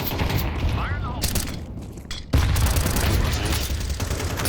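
A grenade goes off in a video game: a sharp, loud explosive boom hits midway, followed by a dense roar of continued gunfire and blasts, with clattering shots and game voices underneath before it.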